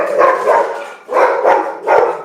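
A dog barks three times in quick succession, loud and close, in a plain indoor setting with no speech over it.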